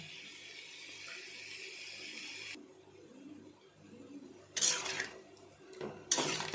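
Water is poured into a cooking pan holding potatoes, kankad and tomatoes, giving short splashing bursts after a quieter stretch of kitchen hiss, with no talking.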